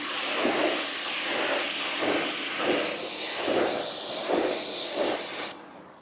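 A garden water hose sprays steadily, rinsing car shampoo off a car's coated paintwork, a loud continuous hissing spray with gentle rhythmic swells as the stream sweeps back and forth, stopping abruptly near the end.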